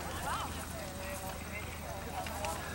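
Hooves of an 8-year-old thoroughbred clip-clop faintly at a stadium show jumping ring during a horse trials event, while an announcer talks over a distant, muffled arena background.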